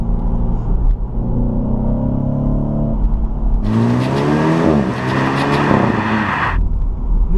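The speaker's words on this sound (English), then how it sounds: "You can hear the turbo whistle as well." A 2015 BMW Z4 sDrive20i M Sport with a turbocharged four-cylinder accelerates, its engine note climbing in pitch through a gear and then easing off, loud and close with a steady rumble beneath.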